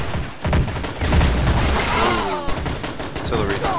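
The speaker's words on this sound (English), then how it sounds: "Artillery. That was a good shot." Artillery fire in the war strategy game Strateejik Battles: dense, continuous booming and crackling barrages with rumbling low impacts layered with sharper gunfire, loud throughout, with voices faintly mixed in.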